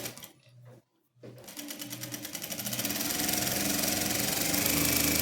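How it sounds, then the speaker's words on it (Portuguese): Sewing machine running steadily while stitching the side seams of a fabric headboard cover, starting after a brief pause and then whirring continuously, close and fairly loud. "Agora só vou costurar as laterais. Vou costurar do meu lado, direito."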